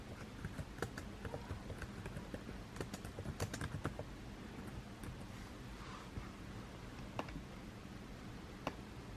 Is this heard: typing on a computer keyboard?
yes